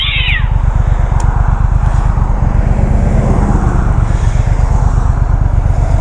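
A 2020 Triumph Speed Twin motorcycle engine idles steadily nearby through an aftermarket exhaust, a loud, even low-pitched thrumming that continues without a break.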